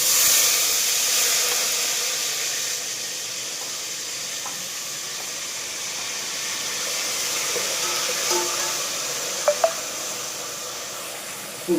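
Chopped tomatoes sizzling in hot oil in a pan while cooking kushka biryani rice, a steady, fairly loud hiss of frying that holds throughout with a few faint clinks.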